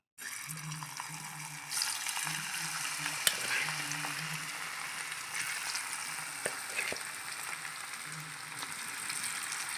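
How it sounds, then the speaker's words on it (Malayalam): Battered cauliflower pieces frying in hot oil make a steady, moderately quiet sizzle with some faint clinks and a low background hum, heard close with no speech. "ഇനി ഇത് ചൂടായി വരുമ്പോഴത്തേക്കും നമുക്ക് കോളിഫ്ലവർ ഇട്ട് വറുത്തെടുക്കാം"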